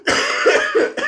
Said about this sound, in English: It gets me so mad I cough.